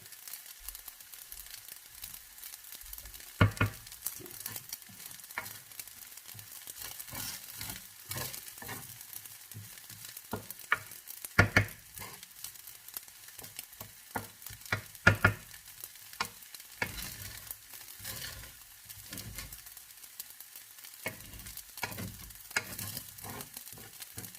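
Carrots and rice stir-fried in a pan for butter fried rice with chicken and egg, a steady low sizzle broken by frequent scraping and clacking strokes of the spatula, close and alone.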